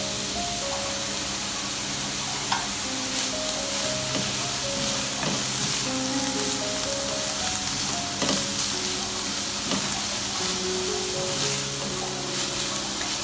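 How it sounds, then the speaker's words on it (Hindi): Bell pepper (capsicum) frying in a pan for an aloo chicken roll filling, a steady close sizzle and crackle running continuously with no talk. "एक 2 मिनट के लिए हम इसको भी फ्राई करेंगे।"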